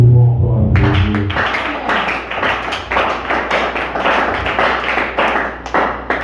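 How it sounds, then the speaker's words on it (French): A church congregation claps steadily and loudly for several seconds after a brief opening of music, the applause dense and continuous with no voices standing out. "Est-ce que nous pouvons encore applaudir?"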